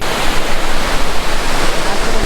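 Loud, steady roar of rushing water from the nearby Thatiguda waterfall in Araku, a dense continuous wash of noise filling the whole clip.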